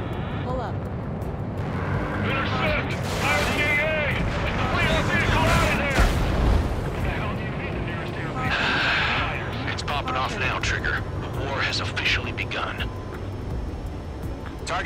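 Explosions and rapid gunfire from the Ace Combat 7 flight combat game crackle and boom over jet engine roar while radio voices talk over the action.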